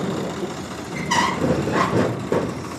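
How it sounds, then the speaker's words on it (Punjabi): A tractor engine runs nearby on a farm as the tractor is reversed, its low steady drone rising slightly partway through, with a couple of brief higher tonal squeaks and clanks over the rumble. "ਲੱਗਿਆ ਟਰੈਕਟਰ ਬੈਕ ਲਾਉਣ"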